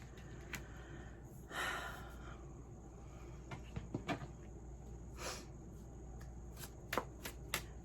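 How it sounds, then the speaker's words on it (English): Tarot cards handled and shuffled near a quiet room, soft papery riffles and light flicks scattered over a faint steady hiss, with a few sharper card snaps toward the end. "I'm throwing cards."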